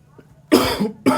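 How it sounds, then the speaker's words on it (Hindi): Two harsh coughs close to the microphone, a longer one followed shortly by a brief second burst, with quiet before. "खांसी ज़्यादा ही हो गई।"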